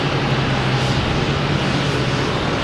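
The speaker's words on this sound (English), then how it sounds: "We have a JetBlue coming in" A JetBlue airliner arrives at Boston Logan Airport, heard as a steady, broad jet roar with a low hum underneath, continuous and moderately distant.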